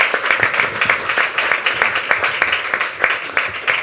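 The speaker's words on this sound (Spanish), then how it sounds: "quiero pedir otro aplauso muy cariñoso para Carmen," Warm applause from the audience at a magazine issue presentation, loud and close, with hands clapping in a quick, slightly rhythmic pulse and some louder individual claps standing out.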